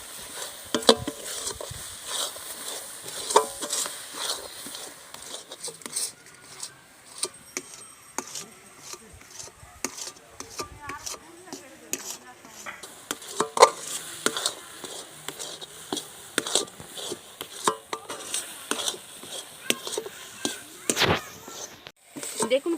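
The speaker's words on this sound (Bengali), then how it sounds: "দিয়ে এবার আমি অনবরত নাড়তে থাকবো।" Amla digestive paste being stirred continuously in a pan, with sticky scraping and clicking of the spoon, soft sizzling and a voice talking over it at times.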